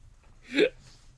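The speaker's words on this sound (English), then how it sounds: "Was that a response or just a hiccup?" A single sharp hiccup lands close on a studio microphone, a short gulping burst in an otherwise quiet moment.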